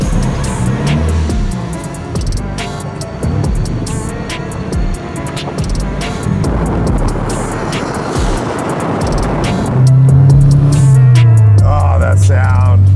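An SR20 single-turbo engine in a Datsun/Nissan Skyline Hakosuka drones loudly and steadily as the car drives, rising into a deeper, louder growl near the end.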